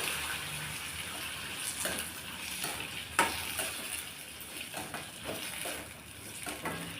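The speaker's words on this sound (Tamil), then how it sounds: "இப்போ இதை நல்லா வதக்கி விட்டுக்கலாம்" Tomato chutney ingredients are being sautéed in a pan. A soft, steady sizzle is broken by faint stirring scrapes and clicks, close and quiet, with no talking.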